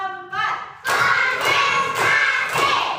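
A group claps together in a counted pattern, with several loud, dense bursts of unison clapping in a regular rhythm after a short spoken call.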